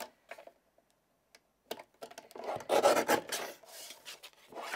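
A craft frame border is trimmed by hand, giving scattered short rasping scrapes that build into a denser run of cutting strokes, close and moderately loud with no talk.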